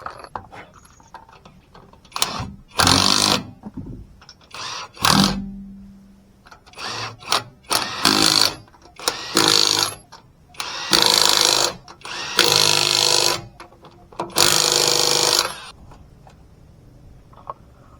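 Compressed-air-driven power tool firing in repeated short bursts, loud and close, with rattling mechanical whirring and clattering between pauses.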